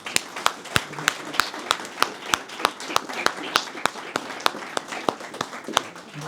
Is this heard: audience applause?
yes